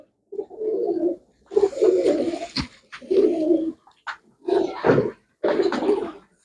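Pigeons coo in repeated close, loud bursts separated by short pauses, with a few sharper clicks and wing or handling noises among them.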